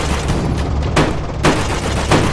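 A Lego World War II tank battle animation has a tank firing armor-piercing shells, loud booming shots landing in rapid succession over a dense, rumbling battlefield din.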